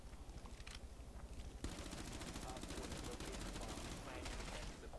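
A full magazine of automatic gunfire in a video game rips out as one long, dense, rapid stream of shots that starts abruptly and stops near the end, with quieter scattered shots and faint clicks before it.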